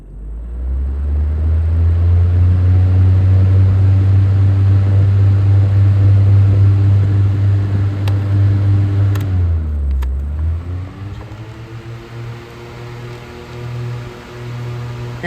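A Holmes HAWF 2020N fan running on low speed, recorded from the back: a steady, loud motor hum with a drone of blade noise, dropping in pitch and settling at a lower, softer level toward the end.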